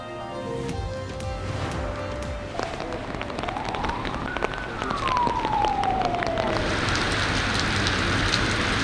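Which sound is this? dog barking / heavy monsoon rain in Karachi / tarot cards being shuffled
heavy monsoon rain in Karachi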